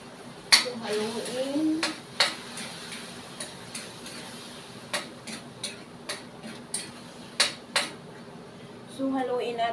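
Utensil scraping and clinking against a pan while squid adobo is stirred, a series of regular light metallic taps and scrapes, fairly close, with a voice speaking at the start and end.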